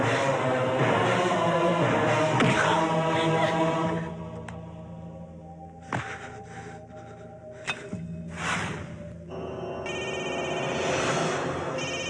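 A telephone rings unanswered in a Telugu film scene, repeated ringing tones over layered background music, strongest in the first few seconds and returning toward the end.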